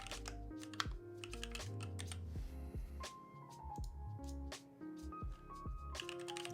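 Steady typing on a TG4X computer keyboard gives dense, close clacks in uneven bursts with brief gaps, carried over a low background hum, and nobody speaks.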